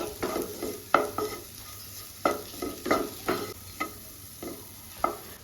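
Maggi noodles with vegetables, egg and masala stirred in a pan, a soft sizzle punctuated by seven or eight distinct spatula scrapes in an uneven rhythm, close and without speech.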